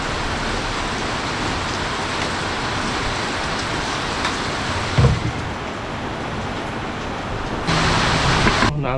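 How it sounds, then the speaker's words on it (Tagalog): Steady rain pouring down in a dense, even hiss, with a small knock midway and the downpour growing slightly heavier near the end. "At sana wag lumakas yung ulan dito, nakatakot na yung ulan."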